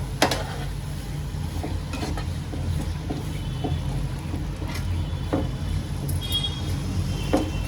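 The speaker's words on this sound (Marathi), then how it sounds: "आता आंब्याच्या पल्प बरोबर ह्याला सगळं एकत्र करून चांगलं मी परतून घेते।" Mango pulp mixture for amba poli being stir-fried in a pan, with a steady low scraping and soft sizzle throughout and a few sharper utensil knocks against the pan.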